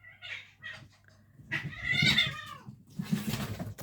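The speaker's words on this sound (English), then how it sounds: "My cat Theo got in my other cat Bruce's box, and he was not very happy about that" An upset cat named Bruce, annoyed that another cat is in his box, gives a few close meows that rise into a drawn-out, wavering caterwaul, loud and alone.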